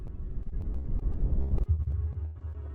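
Video game sound effect layering a deep throbbing pulse with reversed electric-mower-on-gravel scraping, a dark rumbling swell with a sharp thump near the middle, heard alone.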